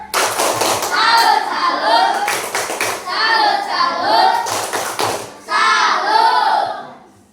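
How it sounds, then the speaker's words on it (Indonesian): A class of children at school claps the rhythmic 'tepuk salut' pattern for a classmate named Rizky, with sharp hand claps mixed into loud group chanting voices that carry through the whole stretch. "Tepuk salut dulu untuk Rizky."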